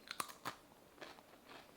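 Biting into crunchy sourdough discard cheese crackers: a few sharp close crunches in quick succession followed by fainter chewing, with no talking.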